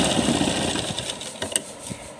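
A sewing machine stitching lehenga fabric, a close, steady mechanical whirr with slight rhythmic variation that eases off toward the end.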